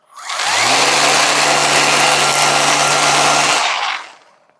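String trimmer with an upgraded ergonomic handle revving up and running while edging, a loud, steady, high-pitched motor whine for about four seconds that then spins down.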